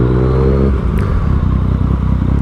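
A Yamaha FZ-09 motorcycle engine runs close and loud while being parked, a steady idle hum that shifts into a rough, choppy low putter with some clatter.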